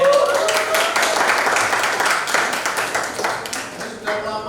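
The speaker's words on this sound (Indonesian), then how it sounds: "Tadi yang kelompok belum dikasih tepuk tangan ya." A school biology class claps for a student group after its presentation, a lively burst of close, slightly uneven handclaps that continues for several seconds and thins out near the end.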